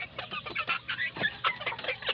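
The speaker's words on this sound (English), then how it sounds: "My chickens, the bigger ones, around 3 months old chickens." Several chickens about three months old cluck nearby in a rooftop garden pen, a busy run of short, rhythmic clucks and squawks with no talking.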